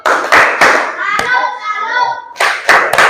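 A classroom of children performs a clapping routine: a few sharp rhythmic claps together, then a pause while young voices chant, then another quick round of claps.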